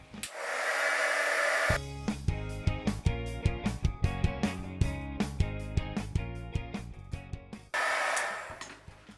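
A hair dryer blows over wet paint on a painting's background, a steady broadband whoosh for a couple of seconds at the start and again near the end, with soft music playing in between.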